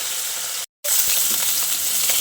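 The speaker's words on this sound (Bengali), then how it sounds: "এইভাবে উল্টে পাল্টে মাছটাকে লালচে করে ভেজে নেব।" Rohu fish fries in hot oil in a pan, a steady close sizzle broken once by a brief moment of silence before the crackling resumes.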